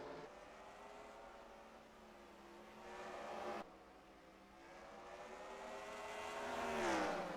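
Race cars at Berlin Raceway taking the green flag for the final main event of an NRX Meijer Cup race, engines droning and rising in pitch as they accelerate past, loud and sustained with shifting tones.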